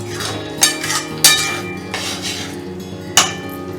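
A metal spoon scraping and stirring paneer butter masala in a pan, with a soft continuous scrape broken by three sharp clinks against the pan's rim.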